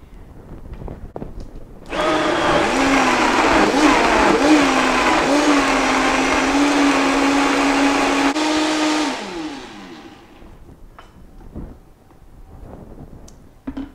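A blender whirs loudly while mixing salsa verde, running steadily for about seven seconds with a slight pitch wobble, then spinning down, with light kitchen clatter before and after.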